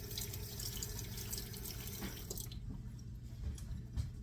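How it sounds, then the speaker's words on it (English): Hands being rinsed under a running kitchen tap while working a sticky einkorn flour culture, a close steady rush of water that thins out halfway, with a few light splashes and drips. "You're gonna have to wash your hands as you're doing this"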